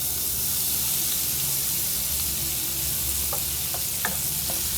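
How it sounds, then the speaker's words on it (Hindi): Flour frying gently in oil on low heat in a pan for chicken vegetable samosas, a steady continuous sizzle with soft stirring scrapes and a few brief clicks near the end, close and alone without talk. "धीमी आंच पे इसको हल्का हल्का सा फ्राई करेंगे।"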